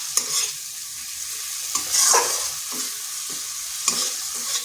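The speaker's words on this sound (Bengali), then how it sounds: "মশলাটা ভালো করে কষিয়ে নিচ্ছি" Ground spice paste with a splash of water is stir-fried in a pan, a steady sizzle broken by several scraping strokes of a spatula, close and moderately loud.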